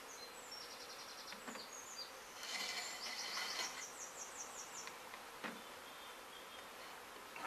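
Honey bees buzz around an open hive during a spring inspection, a steady close drone with individual bees whining past louder now and then, with no voices.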